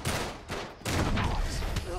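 Gunfire in the action game Uncharted 3, with dense, overlapping bursts and sharp cracks filling the moment. Someone talks over the shooting.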